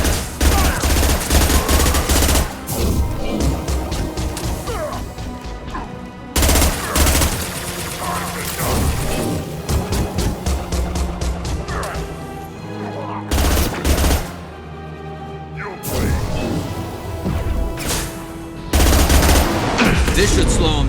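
Sustained gunfire in the sci-fi shooter Mass Effect 2, dense automatic bursts and rapid shots rattling almost continuously for about twenty seconds, loud and close, with brief pauses between volleys.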